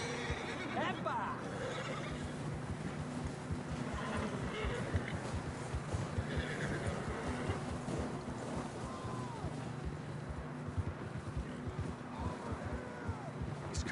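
Horses in the Red Dead Redemption 2 video game whinny several times over gusty wind, with voices talking in the scene.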